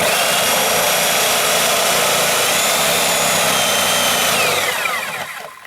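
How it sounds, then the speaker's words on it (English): A Sawzall reciprocating saw cuts through a wooden stair stringer for a chicken coop with a loud, close, continuous buzzing rasp that runs steadily and then winds down as the motor stops at the end. "so I'm going to use my Sawzall."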